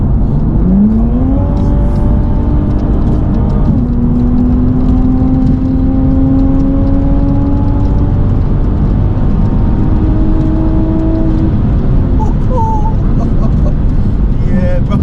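A tuned 420 bhp Toyota Supra engine drives hard from the cabin, with a loud sustained drone rising through several gears and clear shift breaks, while someone talks over it.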